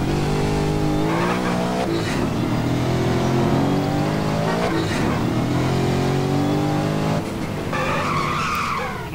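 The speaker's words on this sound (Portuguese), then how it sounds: "Esse carro aqui é muito rápido" A fast car in GTA San Andreas revs hard and loud, engine pitch climbing and dropping through repeated gear shifts, with tire squeal near the end.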